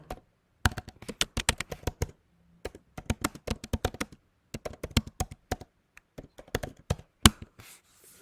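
Typing on a computer keyboard while entering an expense in bookkeeping software, close crisp key clicks in quick irregular bursts with short pauses, no talking.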